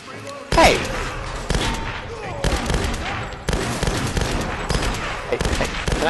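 Gunfire in the Tomb Raider video game rings out as repeated loud bursts and single cracks, close and punchy, spaced irregularly across the clip with short gaps between volleys and a brief voice in the background.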